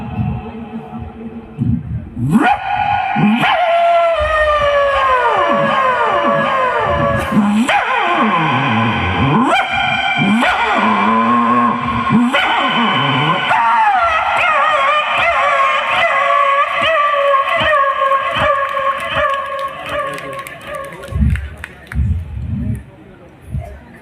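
A man imitates a dog with his voice, yipping, barking and drawing out long whining howls in a loud continuous run, with crowd noise faintly underneath.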